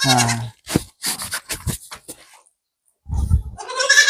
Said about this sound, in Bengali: এডি ছাগলের বাচ্চা না